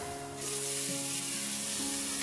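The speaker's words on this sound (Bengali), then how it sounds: "এখন আমি ভেজে রাখা সবজিগুলো দিয়ে দেব।" Vegetables already fried are dropped into a hot pan where onions have been browned, bringing a steady, loud broadband sizzle that swells and holds for about two seconds, with a faint tonal hum underneath.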